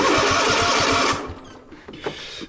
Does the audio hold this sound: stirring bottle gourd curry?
no